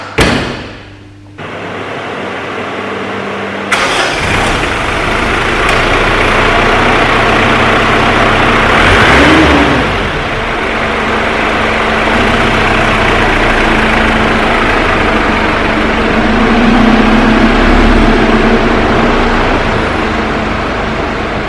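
A Mitsubishi L200 pickup's turbo diesel engine idles loudly with a deep steady rumble, rising briefly in a rev, then settling back to a constant idle.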